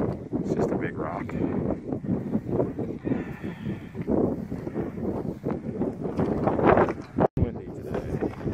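Strong wind at the base of Smith Rock buffets the microphone in a steady, loud low rumble, with a voice talking over it.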